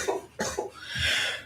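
A person in the middle of an endurance fitness workout coughs, two or three sharp coughs close to the mic followed by a rougher, breathy rasp, with no speech.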